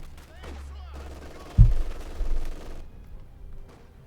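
Combat in Company of Heroes 2 with an M10 tank destroyer and a Pak 40 anti-tank gun, as a sharp heavy tank shot rings out amid rumbling, scattered gunfire and battle noise, with a voice talking faintly.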